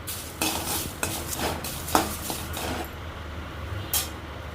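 A handful of shade-dried curry leaves roasts dry in a pan, with scraping, rattling stirring and metallic utensil clinks over a steady background hiss, a few louder scrapes standing out.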